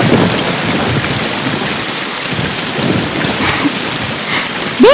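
Heavy rain pours down in a dense, constant roar, with low rumbling thunder underneath and a brief tonal sound at the very end.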